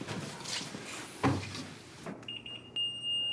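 An electronic level device emits a steady tone that begins partway through and holds to the end, following a few thumps and clatters.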